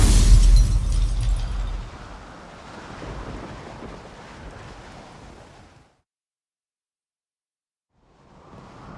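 A stormy roar in The Witcher 3 opens with a heavy thunder-like boom, then settles into a long rumbling wash of wind and rain before cutting to silence and briefly returning.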